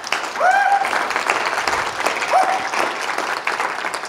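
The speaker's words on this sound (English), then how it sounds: "Let's give a round of applause to our singers." Loud, dense audience applause for drum singers at an American Indian writers' award festival, sustained throughout with a couple of brief whoops or whistles rising above the clapping.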